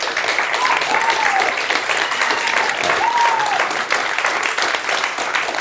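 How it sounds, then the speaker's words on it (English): Steady, loud applause from an audience at a Demo Day event fills the whole stretch, with brief cheering or whooping voices rising through the clapping. "Let's give a round of applause."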